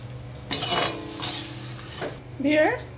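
Fried brain lifted out of a hot frying pan, bursts of spatula scraping and metal clatter over a low sizzle, close up, ending with a brief wavering tonal sound.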